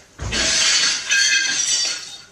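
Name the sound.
glass breaking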